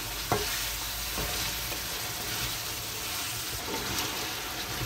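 Meat sautés in a pan for a home-cooked lunch of meat and vegetables, making a soft, continuous sizzle broken by a few light knocks and scrapes of a stirring utensil.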